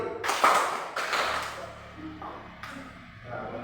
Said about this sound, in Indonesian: kita mulai lagi tepuk tangan 2 kali